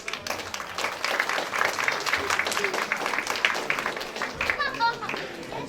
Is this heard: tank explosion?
no